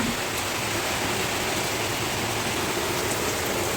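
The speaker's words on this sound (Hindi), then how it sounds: "और भी बारिश ज़्यादा हो रहा है, बहुत ज़्यादा" Heavy monsoon rain pours down outside a home, a dense, loud, unbroken roar of water that holds steady throughout, with no voices.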